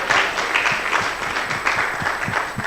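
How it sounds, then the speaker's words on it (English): An audience claps for a presenter at a debt managers' conference, a steady patter of many hands heard alone, moderately loud throughout. "So please let us applaud him."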